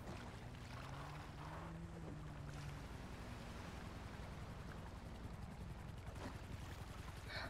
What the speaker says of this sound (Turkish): Bir motor sesi daha var.